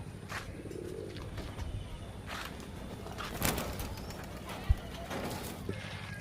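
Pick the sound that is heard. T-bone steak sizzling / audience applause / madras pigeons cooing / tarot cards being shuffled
madras pigeons cooing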